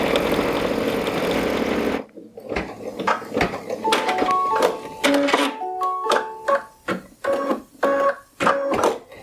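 A home embroidery sewing machine stitches an applique placement line: after a brief rush of noise, rapid mechanical whirring bursts start and stop with short pauses, close and fairly loud, with no talking.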